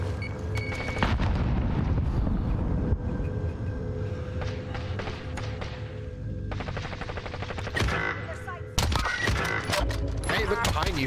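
A frag grenade explodes in the Warzone video game amid loud, dense game combat noise, with sharp blasts and bursts of gunfire crackling over a rumbling background, and a voice talking at times.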